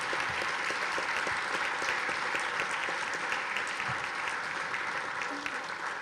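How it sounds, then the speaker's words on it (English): Audience applause for award recipients at an environment and climate protection awards ceremony, a steady dense clapping that holds evenly for the whole stretch without a break. "Please join me for a round of applause again as we congratulate all the recipients"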